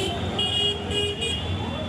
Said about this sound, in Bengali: অতিমাত্রায় বিকট শব্দে হর্ন বাজানোর চিত্র চট্টগ্রাম মেডিকেলের সামনে